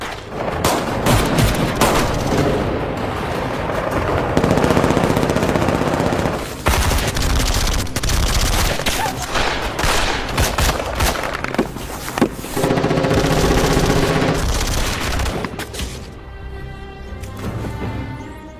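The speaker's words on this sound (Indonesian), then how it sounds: "Bantuan musuh yang berupa tank mulai datang dan mulai menembaki para pejuang." Loud, dense bursts of gunfire come from tanks shooting at fighters in a film about a failed coup against President Erdogan. Rapid volleys and heavy booms overlap almost continuously, then thin out near the end.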